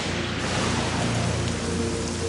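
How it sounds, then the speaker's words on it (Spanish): A desert thunderstorm in Las Vegas pours steady heavy rain with a low rumbling undertone, loud and continuous throughout. "En Las Vegas, retumba la tormenta en el desierto."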